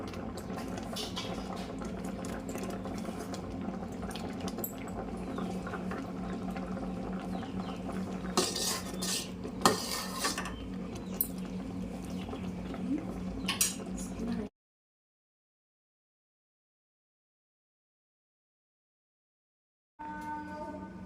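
A spoon scrapes and clinks inside a pot as ghee-fried coconut and cashews are stirred into jaggery vermicelli payasam. The soft scraping and metal taps run for about fourteen seconds, then the sound drops to silence and returns briefly at the end.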